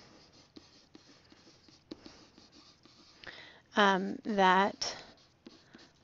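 Pen or marker scratching steadily across a writing surface during a maths lesson on comparing exponent expressions, soft and continuous, with a short burst of a voice speaking near the middle.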